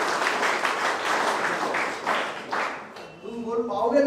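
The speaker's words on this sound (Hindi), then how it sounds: "जोरदार एक बार हाथ ताली।" Loud applause and clapping from a crowd at a gathering of students selected for the Indian Army GD, dense and continuous for about three seconds, then fading as a voice begins speaking.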